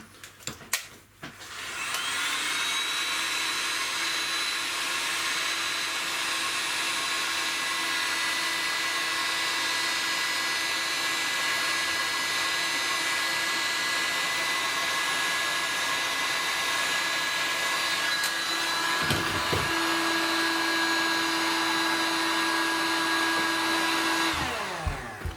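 A heat gun warms Loctite-locked screws on a Tokyo Marui 416 Delta NGRS electric airsoft rifle, a steady close whooshing roar running almost unbroken for over twenty seconds, shifting in tone briefly near the end.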